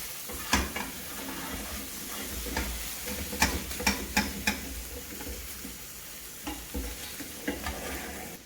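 Salted vegetables fry in a pan with a constant soft sizzle while a utensil stirs and taps against the bottom in irregular clicks and scrapes, close and fairly quiet, with no talking.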